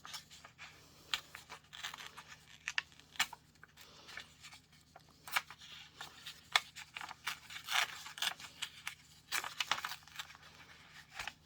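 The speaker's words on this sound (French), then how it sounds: "Tiens, je vais déchirer celle-là." Sewing pattern paper being torn, heard as a string of short, dry ripping and crinkling bursts, close and fairly quiet, with pauses between pulls and no talk.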